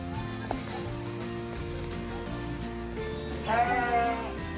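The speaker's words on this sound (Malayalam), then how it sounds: "ഇവനാണ് ജേക്കബ് ഷീപ്പ്, 4 കൊമ്പുകളുള്ള വെറൈറ്റി ഇനം" A four-horned Jacob sheep gives one clear, nearby bleat near the end, over soft background music.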